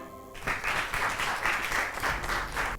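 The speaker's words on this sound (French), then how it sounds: "Maximum d'applaudissements." An audience at a children's quiz contest in Senegal breaks into applause, a brief burst of dense clapping that rises quickly and stays fairly even, moderately loud with no voice over it.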